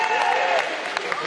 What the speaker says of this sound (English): Everybody, round of applause for the girls from first, our winners of our 4x200 women's freestyle relay.